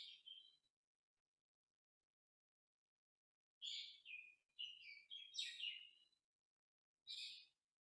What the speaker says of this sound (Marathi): मधूनच कोकिळेचा कुहू कुहू आवाज.